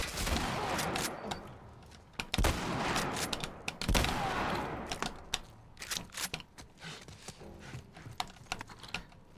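Rapid bursts of gunfire from The Last of Us Part I, with sharp shots and volleys scattered across the scene, some loud and close, others lighter, over a busy game soundscape.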